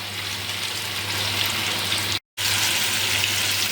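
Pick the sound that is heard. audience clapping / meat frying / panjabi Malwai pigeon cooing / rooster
meat frying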